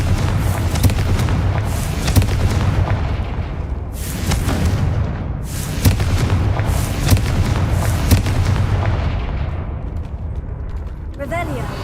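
Confringo blasting spells from Hogwarts Legacy go off as a run of loud booming explosions, several heavy bursts spread across the stretch over a dense rumbling game soundscape.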